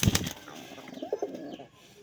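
A male pigeon coos close by, a few soft low throaty coos following a brief rustle or flutter at the start.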